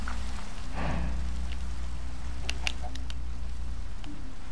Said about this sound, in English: dang bro, it's been raining all day.